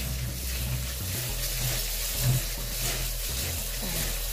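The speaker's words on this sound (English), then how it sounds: "I just wash my rice in the strainer." Tap water running steadily over rice held in a strainer at a kitchen sink, a close, continuous wash with a low hum beneath it and no talk.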